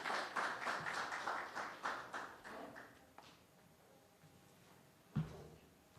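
A small audience at a Premier Soccer League sponsorship unveiling claps for the league's chairman in a burst of fairly close, rhythmic clapping that fades out after about three seconds, followed by quiet and a single thump.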